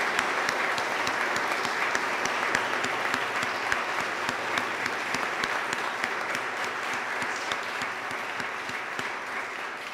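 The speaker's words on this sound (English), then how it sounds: "give a special round of applause to all our graduates here today" A large crowd at a college graduation ceremony applauds steadily for the whole stretch, a dense even patter of many hands clapping, moderately loud and without voices on top.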